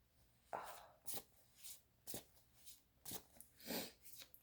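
Tarot cards shuffled by hand in a quiet room, giving a handful of short, soft riffling bursts at uneven intervals, close and fairly faint.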